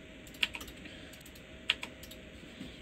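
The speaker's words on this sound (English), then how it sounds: "You want to hit X on your keyboard and to delete them." Two sharp, faint clicks of keys pressed on a computer keyboard, spaced more than a second apart, each followed by a softer secondary tap over low background hiss.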